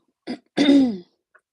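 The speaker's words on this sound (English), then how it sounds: "Sorry for clearing my throat." A person clears their throat once, a short rasp followed by a longer voiced harrumph, close and alone in a quiet room.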